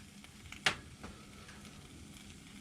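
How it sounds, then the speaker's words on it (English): Faint, quiet sizzling and crackling with small scattered ticks and one sharper pop, like hot water hissing on metal, from a heating miniature LBSC steam engine, close and without talk. "That's what that sizzle and crackle is."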